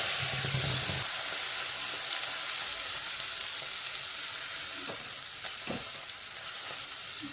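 Ground masala paste with cumin, curry leaves, asafoetida and turmeric sautés in hot oil for a spicy vada rassa, a loud continuous frying hiss with a few scraping stirs, close up and without voices.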